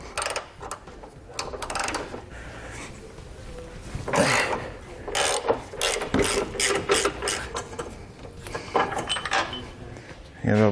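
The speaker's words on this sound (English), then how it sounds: "With an 18mm socket, we need to remove the bolt on our subframe." Ratchet wrench with an 18mm socket loosening a subframe bolt while fitting a Roadmaster Direct-Connect base plate on a 2017 vehicle: repeated close, loud clicking bursts of ratcheting strokes, with brief pauses and some voice underneath.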